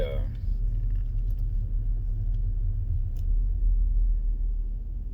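A car's steady low road rumble and engine drone on a morning drive to work, continuous throughout with faint cabin sounds and talk over it.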